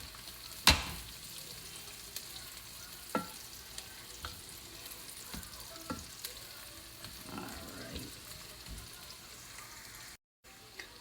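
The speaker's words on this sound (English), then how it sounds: "Just gonna let them cook for like 2 minutes with the onions." Chopped sun-dried tomatoes frying with onions in a pan, a continuous close sizzle punctuated by a sharp clank near the start and occasional spoon scrapes, with no one speaking.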